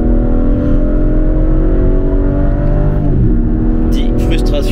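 A BMW M4 Competition G82 engine, stage 2 tuned, hums and rises in pitch as it revs with exhaust valves open, with a deep exhaust drone; a voice briefly talks over it near the end.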